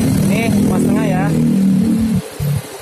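A Honda Supra X motorcycle engine runs steadily during carburetor tuning, a close, loud idle that cuts out briefly near the end and then returns, with someone talking over it.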